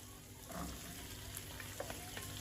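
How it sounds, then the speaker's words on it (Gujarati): Spiny gourd (kankoda) pieces drop into a pan of hot fried onion, tomato and masala, setting off a soft, steady sizzle with a few light stirring clicks. "હવે આપણે આની અંદર કંકોડા એડ કરી દઈશું।"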